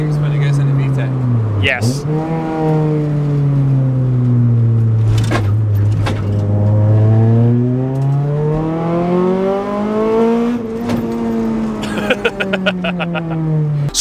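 A Honda Civic coupe fitted with an Integra Type R engine revs up and down in long, rising and falling sweeps that sound close and loud, with brief speech over it.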